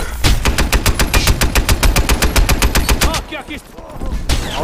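Rapid automatic gunfire in Crysis 3 multiplayer, a fast, evenly spaced burst of loud shots for about three seconds, then a short pause and more distant game sounds.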